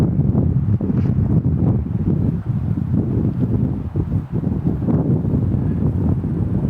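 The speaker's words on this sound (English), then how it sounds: "A little bit of wind here. Blowing out of the south." Wind blowing from the south across an outdoor disc golf course, a steady broadband rush with gusty fluctuations and microphone buffeting throughout.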